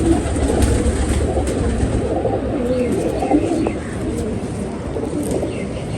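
Pigeons coo softly amid a noisy loft or rooftop setting, with low cooing and scattered chirps beneath a dense, steady background rumble.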